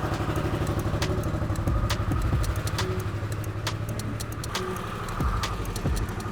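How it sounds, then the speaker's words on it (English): A stock Harley-Davidson Sportster S V-twin idles steadily as it warms up, a close, continuous loping rumble with no talk over it. "the bike is bone stock, so we're gonna crank it up and just let it warm up for a second."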